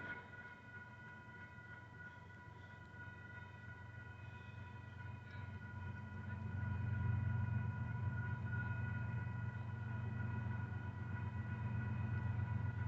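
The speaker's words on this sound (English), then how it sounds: "We're gonna have a southbound intermodal train." A southbound Union Pacific intermodal freight train led by locomotive UP 5414, its low engine rumble building and growing louder as it draws near, with steady horn-like tones sustained over it.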